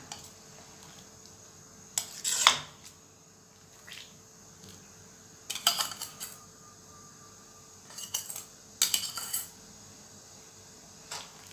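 A metal spoon scrapes and clinks against a pot while skimming foam from boiling sweet corn dessert, several scattered clatters over a steady faint background hum, no talk.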